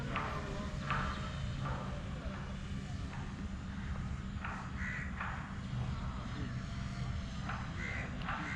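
An FPV drone on its first flight, heard as a steady close rotor drone with low rumble throughout, with occasional crow-like calls and faint bursts of voice over it.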